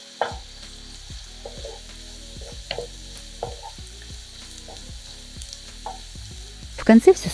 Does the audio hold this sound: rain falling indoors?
no